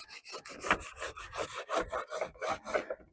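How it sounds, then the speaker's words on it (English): Chalk scratched and rubbed along a panel while tracing an outline for custom door cards on a 1967 Ford F100, a close series of rapid rasping strokes with short pauses between them. "Just scratching it so I can get this out the way."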